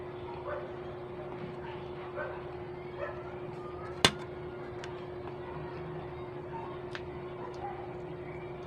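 A pet dog begs for pork at dinner time, giving soft occasional whimpers and yips over a quiet room with a steady hum and one sharp click.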